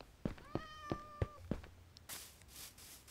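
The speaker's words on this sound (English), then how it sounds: "I can hear cats." Several Minecraft cats meowing close by, a quick series of four or five short mews in a row, followed by a brief soft shuffling noise.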